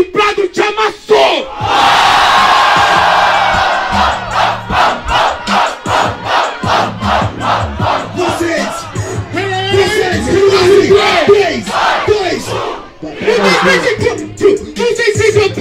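Rap battle audience erupting at a beat drop, a loud close crowd of shouts, whoops and laughter that surges and pulses in rhythmic bursts, with voices rapping and talking over it.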